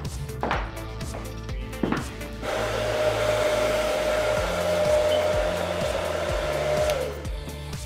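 A hair dryer roars on loud and close, blowing steadily for several seconds while drying hair in a home salon setting, after brief handling clatter, then cuts off.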